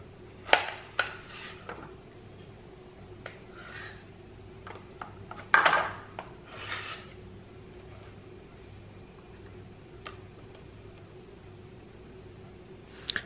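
A knife quarters cherry tomatoes on a cutting board, giving a few sharp, fairly quiet taps and clicks spaced irregularly over a low steady background hum.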